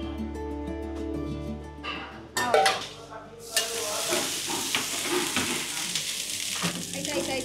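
Beetroot dosa batter hitting a hot griddle: a quiet hum gives way to a sudden burst of sizzling that settles into a steady crackling fry, punctuated by occasional scraping clinks.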